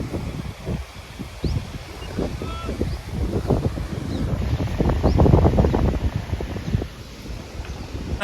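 A strong, cold storm wind blows in rough gusts that buffet the microphone, swelling to a louder roar around the middle before easing slightly.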